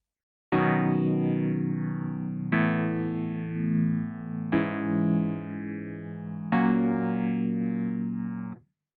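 A chord progression plays back from the Scaler 3 chord plugin, four sustained synth chords, each held about two seconds with a bright, effected, slightly distorted tone, loud and clear with no talking.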